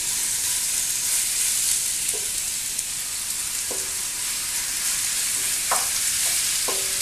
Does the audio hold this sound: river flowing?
no